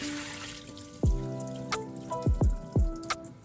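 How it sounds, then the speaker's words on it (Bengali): Washed chinigura rice in a colander draining its water, a close, soft trickle broken by several distinct drips and plops falling one after another at uneven intervals, with no voices. "পানিটা যেন সম্পূর্ণরূপে ঝরে যায়।"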